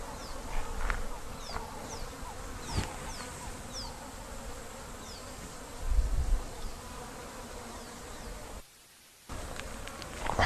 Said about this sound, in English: Lots of bees, African honeybees.